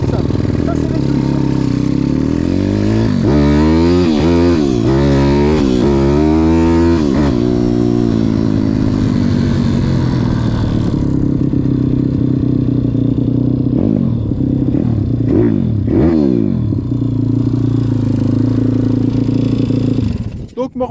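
A Zongshen 180 motorcycle engine on test revs loudly and close as the throttle is opened in several quick rising blips, then settles into a rough, steady idle, with people talking over it.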